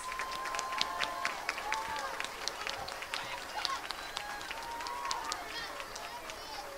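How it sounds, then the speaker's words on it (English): An audience at an elementary school fifth-grade celebration applauds Girls on the Run participants with scattered, fairly distant claps and a few whoops, while people talk over it. "So if you could give them a round of applause."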